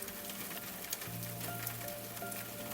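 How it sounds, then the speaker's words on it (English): Steady rain falls on a surface in a quiet, peaceful setting, a soft continuous patter of drops with a faint low hum underneath and no voices. "The rain kept falling."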